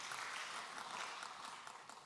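Applause from a church congregation following a hymn at a Wednesday worship service, a faint, steady wash of clapping heard from a distance and lasting only a couple of seconds.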